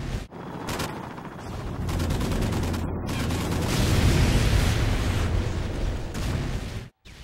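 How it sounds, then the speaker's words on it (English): H6 blowing up in a video game: a loud, sustained explosive roar with crackling bursts that holds for several seconds, then cuts off abruptly near the end. "Here's just another H6 blowing up"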